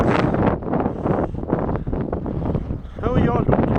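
Wind gusting at Tramore Beach, a steady rough roar buffeting the microphone throughout, loud and close, with a brief voice near the start.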